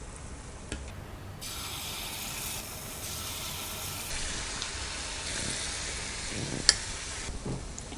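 Wheat appam fries in hot oil with a continuous hissing sizzle that rises and falls, with a few clicks and scrapes as the pieces are turned.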